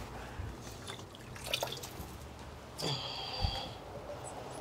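Water drips from a wet sea sponge beside a potter's wheel in an Appalachian pottery workshop: a few quiet, separate drips and trickles against soft room noise.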